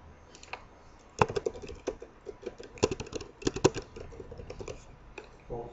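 Rapid clicking keystrokes on a computer keyboard, close and fairly faint, arriving in uneven bursts with short pauses and occasional sharper key hits, with no talking.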